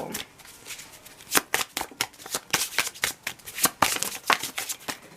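Tarot cards from a Mystic Misfits deck being shuffled by hand, a rapid run of crisp riffling slaps and flutters that grows louder and denser partway through, with no talking.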